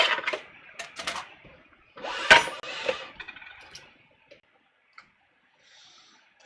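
A sewing machine stitches a muslin collar in short mechanical bursts with scattered clicks and ticks, a denser run of stitching in the middle, then quiet pauses broken by isolated taps.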